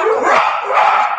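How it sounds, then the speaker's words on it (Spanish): Pet dogs bark close by in a home during an online video call, a loud, brief burst of rough barking lasting about a second. "Las mascotas. Tus perros,"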